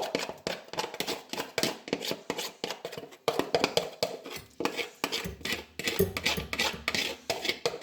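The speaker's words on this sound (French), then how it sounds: "on va mélanger notre banane dedans, notre banane et notre huile de coco." Banana and coconut oil being stirred into a vegan cake batter in a bowl, with steady scraping and clinking of a utensil against the bowl, close and busy throughout, no talking.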